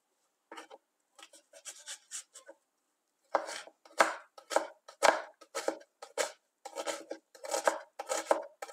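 A knife chops a medium-sized dry onion into small pieces on a board: a few light, scattered cuts, a short pause, then a brisk run of sharp, regular chops, close and clear.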